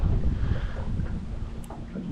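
Steady wind rumbles and buffets against the microphone outdoors while fishing, with low gusty roar throughout and no voices.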